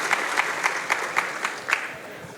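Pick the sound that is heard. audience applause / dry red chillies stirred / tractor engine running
audience applause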